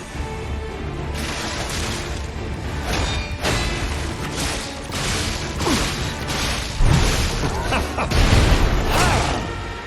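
Explosions and booming crashes in the action game Lies of P, a dense, loud run of repeated blasts, whooshes and impacts layered over a steady rumbling game soundtrack.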